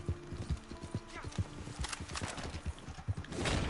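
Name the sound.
horse hooves clip-clopping in video game Red Dead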